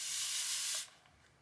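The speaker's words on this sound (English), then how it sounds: "you press this down and it keeps spraying" A fine-mist water spray bottle releases one continuous hissing spray that holds steady, then cuts off abruptly, close to the mic and loud, followed by quiet room tone.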